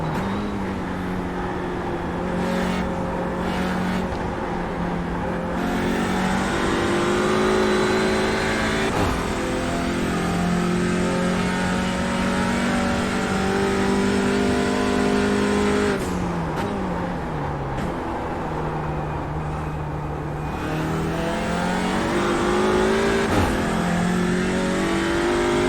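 Race car engine in a TCR racing game at Sonoma, loud and continuous as it revs through repeated upshifts and downshifts, pitch climbing and dropping with throttle changes.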